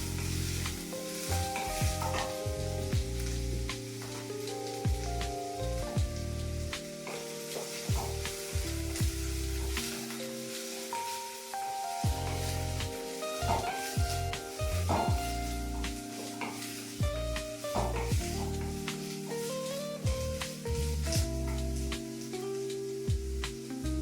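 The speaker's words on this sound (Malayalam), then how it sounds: "രണ്ട് കീറിയ പച്ചമുളക്, 5-6 അല്ലി വെളുത്തുള്ളി ഇത് ചേർത്ത് നല്ലോണം വഴണ്ടി വരും." Slit green chillies and garlic cloves sautéing in a pan for a dal dumpling curry, a constant close sizzle broken by repeated scraping stir strokes, with no voices.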